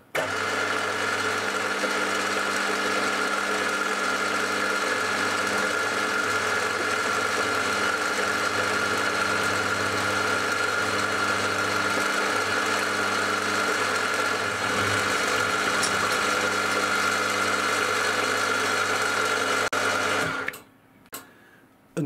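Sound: machining the faces of a hexagon cover

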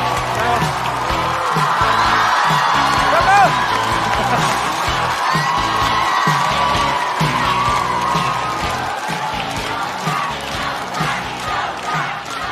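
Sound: audience applause and cheering welcoming a comedian

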